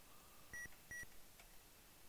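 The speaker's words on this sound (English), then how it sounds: "It's added a beep to it." Two short, clean electronic beeps recorded on an old tape sound in quick succession, faint against a low tape hiss.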